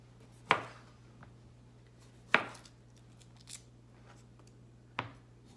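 A knife cuts the ends off kiwis on a cutting board: three sharp, close chops spaced a second or two apart, each with a short ringing tail, plus a couple of faint taps between them, over a quiet low hum.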